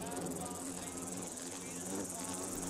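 Steady, dense insect buzzing from Fallout 4 runs continuously and fairly loud throughout, an unbroken droning hum with a faint voice underneath.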